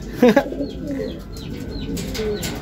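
Racing pigeons coo briefly near the start, a quick low burble close by, followed by quieter ambient noise with faint chirps.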